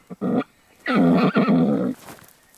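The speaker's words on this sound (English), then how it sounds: "Sometimes she whinnies at them." A horse gives a close, loud whinny, a short call followed by a longer shaky neigh that trails off.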